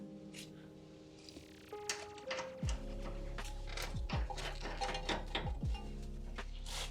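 A nut is tightened onto a Volvo XC90 tie rod with a ratchet, giving faint, close metallic clicks and clatters in an otherwise quiet workshop.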